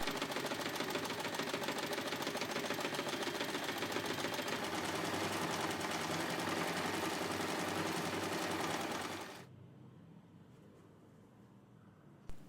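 Sewing machine running steadily as it top-stitches around the edges of a fabric basket, a loud continuous whir for about nine seconds before it stops, leaving quiet and a small click at the end.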